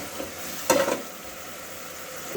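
Eggplant sautéing in a pan with chopped garlic, onion, turmeric and chili powder, a steady soft sizzle with a brief louder burst of stirring near the start.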